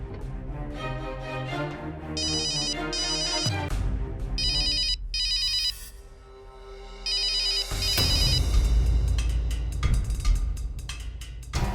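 A phone ringtone plays loudly and steadily, a melodic electronic ring repeating in bursts over a backing tone, with no talking.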